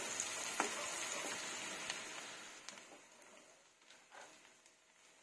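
Garlic fries in pork fat in a pan, giving a steady soft sizzle with small crackles and pops, slowly fading toward the end.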